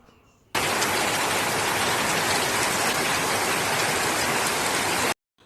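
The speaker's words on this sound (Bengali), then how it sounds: "চলো তোমাদের একটু বৃষ্টির সাউন্ডটা শোনাই" Heavy nighttime rain pours down in a steady, dense roar, loud and close, starting abruptly and holding constant before cutting off near the end, with no voices.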